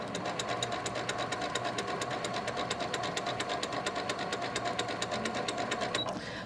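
A sewing machine stitches quilt block pieces together, its needle hammering in a fast, steady, even rhythm up close, with a motor hum underneath, stopping just before the end.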